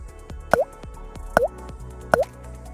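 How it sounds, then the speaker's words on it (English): Three separate liquid drips or plops, evenly spaced and close, as catalytic converter cleaner goes into the gas tank of an Acura, with near silence between them. "Simply pour the cleaner into the gas tank."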